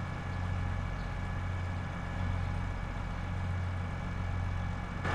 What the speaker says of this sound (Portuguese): Esse é o ronco dessa máquina, pessoal.